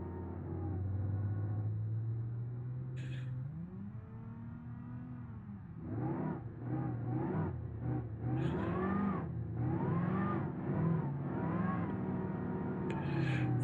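Car engines in the video game BeamNG.drive drone and rev repeatedly, rising and falling in pitch as if accelerating, with a steady motor hum throughout and no talking.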